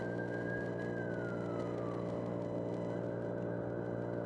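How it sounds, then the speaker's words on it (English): A police car siren on a main road in Waukesha, Wisconsin, its wailing tone sweeping downward as the car passes, loud and steady over continuous low traffic rumble, with no one talking. "Oh, police car coming down the road."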